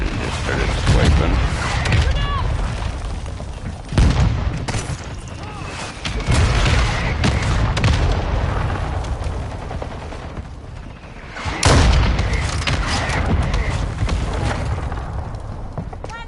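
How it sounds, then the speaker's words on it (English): Mortar strike explosions in Modern Warfare 2 during a firefight: heavy booms burst out amid rattling gunfire, with a few louder blasts standing out near four and twelve seconds over dense, continuous combat noise. "Our mortar strike is inbound."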